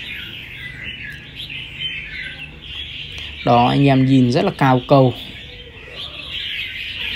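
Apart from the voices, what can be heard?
wild songbird calling, filmed by phone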